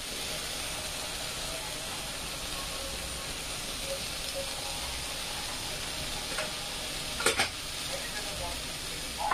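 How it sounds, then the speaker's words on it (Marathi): Steady sizzling of spices and paneer masala frying in a pan, a continuous hiss with occasional stirring scrapes and a brief clatter near the end, close and even throughout. "आपला मसाले फ्राय झालेले आहेत"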